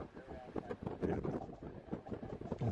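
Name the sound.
strong wind in a video recorded in Japan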